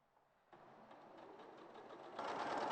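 A sewing machine stitches fabric corner to corner for a quilt, its motor whirring in a rapid needle rhythm that starts after a half-second pause and grows louder and faster toward the end, heard alone and close.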